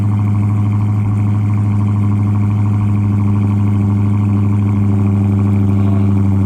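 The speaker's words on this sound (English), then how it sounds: "I love the stock exhaust on the Hellcat." Dodge Hellcat V8 idling through its stock exhaust, a steady, deep, rumbling drone heard up close and continuously with no talk over it.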